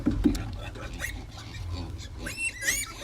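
Seven newborn piglets grunt and squeal in short, high bursts close by, scattered irregularly over soft background noise.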